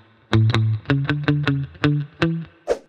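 A reggae lead guitar stuck line picked with alternating down and upstrokes: around nine short, percussive muted notes in a tight choppy pattern, close and clear with nothing else playing.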